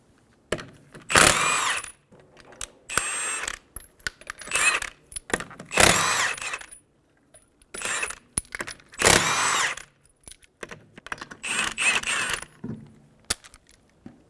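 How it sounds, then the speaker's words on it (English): A 21mm socket removing the five lug nuts from a 2007–2011 Toyota Camry rear wheel, close bursts of ratcheting metallic clicks and rattles separated by short pauses. "Using a 21mm socket, remove the 5 lug nuts."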